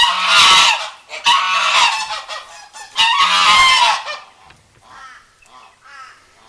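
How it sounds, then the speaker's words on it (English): Several geese honk loudly in a quick series of calls, then a few fainter honks follow in the distance. "Geese on the run."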